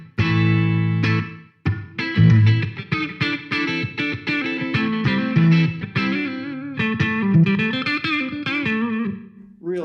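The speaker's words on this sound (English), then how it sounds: "the tile is best used for very short, a short, loud reverb" Electric guitar through a Peavey Vypyr Pro 100 amplifier with its tile reverb setting, a short, loud, bathroom-like reverb, as distorted chords and melodic notes ring out in a steady, dense phrase with brief gaps.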